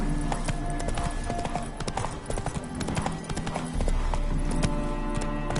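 Roach the horse gallops in The Witcher 3, hooves clip-clopping in a steady, fast rhythm, loud and near, layered over in-game ambience.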